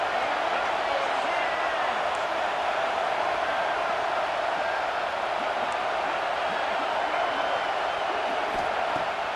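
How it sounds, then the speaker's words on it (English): Stadium crowd noise on a fourth down in EA Sports College Football 26, a steady, fairly distant roar holding at an even level throughout beneath a commentator's voice. "4th down, and this crowd trying to help this defense rise to the occasion."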